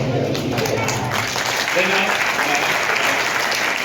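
A school audience at a one-man stage performance about Mahatma Phule claps loudly and continuously, a dense, even wash of applause with voices mixed in beneath it.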